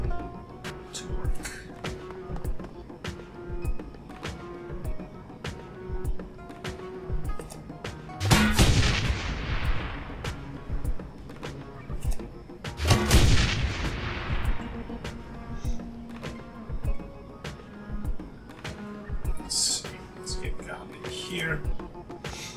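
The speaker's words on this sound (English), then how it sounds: "why don't you put that wonderful grenade launcher of yours to work?" Grenade launcher firing in the Shadowrun: Hong Kong video game, two heavy booming blasts spaced several seconds apart over a constant game background, while a person talks throughout.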